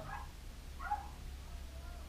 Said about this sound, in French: Il y a un combat de chiens.